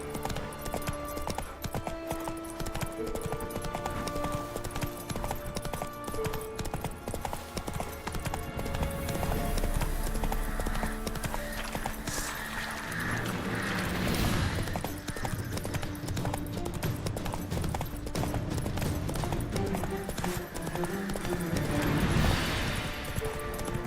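Horse hooves clip-clop steadily throughout a Witcher 3 video game scene as the horse gallops along. The beat is loud and continuous over a rich bed of game music and ambience.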